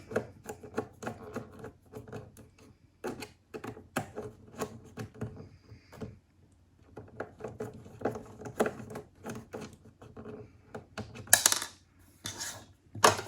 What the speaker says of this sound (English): just take off these two small Phillips head screws